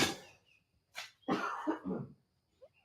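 A person coughs from a dry tickle in the throat, a short sharp hack followed by a couple of rougher, louder coughs, close by and with no talk.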